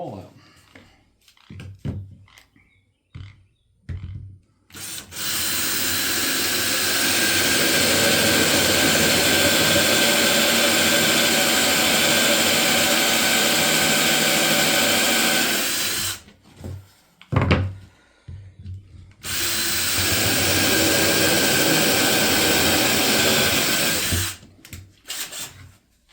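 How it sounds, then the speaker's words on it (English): Power drill boring a hole into the wood of a small bird house, two long steady whirring runs close up with a brief gap between them, and short bits of talk before and between. "And we're gonna drill a hole out."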